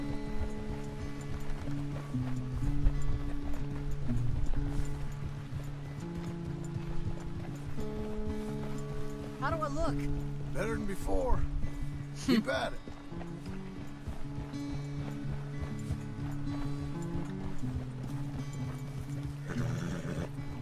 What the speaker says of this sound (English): That's a cute little horse.